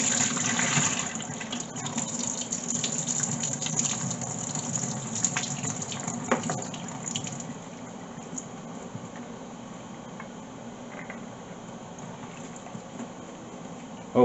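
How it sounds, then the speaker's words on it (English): Rinse water pours and gushes off boiled chana as it is drained, a steady splashing that is heavier at first, then settles into a quieter trickle. "I just drain this off, and we'll get it into our boiling water."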